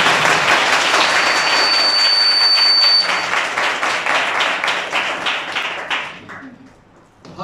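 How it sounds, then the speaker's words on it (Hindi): A church congregation applauds during a Sunday sermon, dense sustained clapping from many hands that fades out toward the end, with a brief tonal whistle-like tone above it early on. "बहुत ज्यादा तालियां यीशु के लिए दी।"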